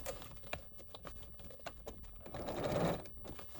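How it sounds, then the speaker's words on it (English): A sewing machine stitches a skirt panel, its motor whirring in short bursts that stop and restart as the fabric is pivoted, with a longer steady run near the end, close and moderately quiet. "What I like to do is I like to sew a box."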